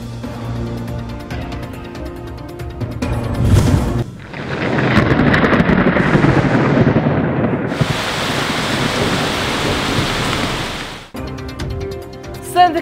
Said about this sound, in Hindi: सिंध के दूसरे बड़े शहर हैदराबाद में तूफानी हवाओं के साथ बारिश